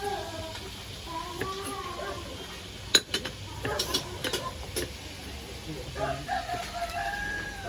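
A rooster crows at a home during cooking, its calls rising over household clatter and nearby voices talking throughout.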